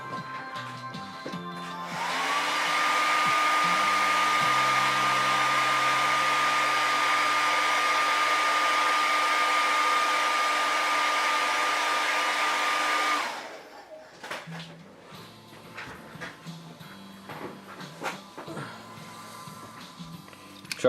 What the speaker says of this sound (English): Hit this with a hair dryer real quick.